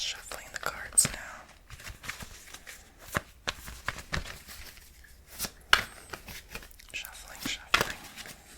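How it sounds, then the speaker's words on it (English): Tarot cards shuffled by hand in a quiet ASMR setting, a run of soft papery riffles and flutters with sharper snaps, close and gentle alongside faint whispering. "Just shuffling the cards now."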